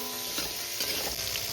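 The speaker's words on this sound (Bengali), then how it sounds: "সমস্ত সবজিগুলো আমি একটু ভেজে নেব।" Pumpkin, potato, papaya and pointed gourd pieces fry in a pan with a continuous close sizzle and crackle, mixed with stirring scrapes.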